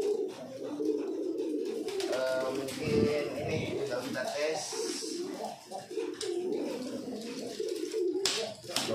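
Pigeons coo repeatedly at close range among a dense mix of bird sounds, with people talking over them throughout.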